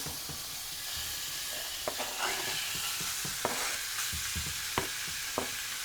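Steady sizzling and crackling of bacon frying in a hot pan on a Monument Mesa II 415BZ grill, with occasional sharper pops and spits over a constant hiss.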